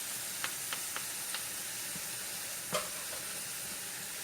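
Hogado sauce with crushed garlic cooks on low heat in a soft, steady sizzle, joined by a few light clicks and taps of stirring.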